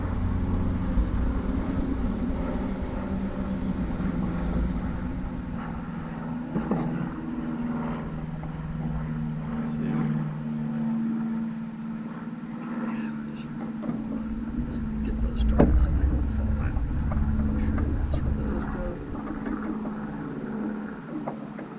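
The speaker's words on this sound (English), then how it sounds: "It's airplanes flying around today." A low, steady drone of aircraft passes overhead for a long stretch, with quiet murmured talk and occasional clicks and handling noises nearby.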